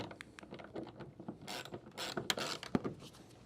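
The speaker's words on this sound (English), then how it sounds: "and then you'll tighten up the bolt as such." Ratcheting clicks and metallic mechanism sounds come from tightening a bolt on a rail clamp for a Worksport AL4 flip-up hard tonneau cover on a pickup truck; short close clicks, denser in the second half, with no talk.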